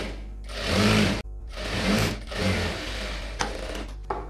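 A sewing machine stitches a pattu pavadai in close, loud whirring runs broken by brief stops and starts, with a few sharp clicks toward the end.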